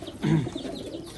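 A Teddy pigeon kept in a loft gives a single short, low coo near the start, close and fairly loud, fading into quieter background rustle.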